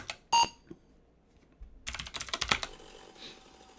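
An Apple II emulator boots a disk, giving short electronic beeps mixed with sharp clicks, a few isolated tones at first and then a quick cluster of clicks and beeps, close and fairly quiet.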